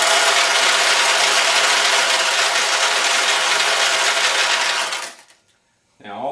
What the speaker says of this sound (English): Now all the balls up to this point have rolled out